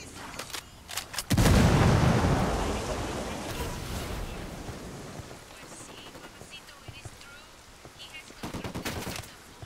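Heavy blast and sustained gunfire in the video game Ghost Recon Wildlands, a loud boom followed by rolling rumble and bursts of shots, with a voice calling out around it.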